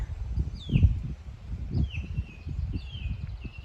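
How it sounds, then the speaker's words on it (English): Birds chirp with a few thin, high falling whistles repeated over low outdoor rumble and handling noise, on a trip from Wigan to Gathurst. "you can just hear the birds singing away."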